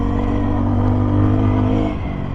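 A Voge 300 Rally single-cylinder motorcycle pulls hard in third gear, a loud, steady engine drone rising slightly before easing off, heard close from the rider's position with no talking.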